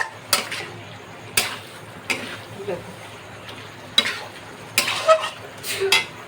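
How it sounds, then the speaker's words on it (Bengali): Boneless chicken sautés in a pan under a soft sizzle, broken by sharp scrapes and knocks of a spatula stirring every second or so, loud and close. "এই যে এটাকে ভালো করে কষিয়ে নিতে হবে।"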